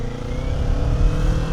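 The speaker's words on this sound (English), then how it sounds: "I get on this motorcycle and I get the joy of singing out on a small displacement bike like this." A 2026 Kawasaki Z500 motorcycle engine revs with a steady, throaty drone from a small-displacement bike, close and loud throughout.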